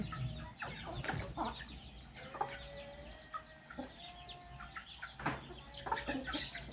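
Several chickens cluck and murmur close by in a steady, overlapping chatter, with occasional louder squawks rising above the flock.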